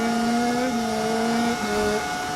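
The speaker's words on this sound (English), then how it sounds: "You hear that lovely engine" F1 car engine in the racing game F1 25, a sustained high-pitched whine holding steady, with pitch dips marking gear changes, loud and continuous without talk.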